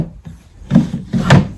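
Two quick wooden scrapes from a drawer of a five-drawer letterpress-style vanity sliding open or shut, close and fairly loud, each a short rub with a soft knock at the end.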